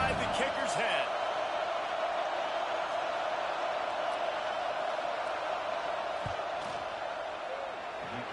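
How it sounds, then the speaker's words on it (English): Steady stadium crowd roar fills an NCAA college football video game as the team lines up for a fourth-down field goal, a broad continuous wash with scattered shouts and thuds rising briefly above it. "This crowd trying to do its part to get inside the kicker's head"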